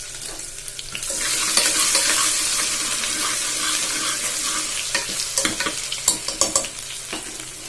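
Loud, steady sizzling of ginger garlic paste frying in hot oil for cauliflower biryani, with stirring and occasional scraping clatters of a utensil against the pan toward the end.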